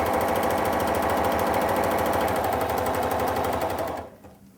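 A Bernina sewing machine zigzag stitching runs at a fast, even, rapid mechanical chatter, close and loud, before stopping abruptly near the end.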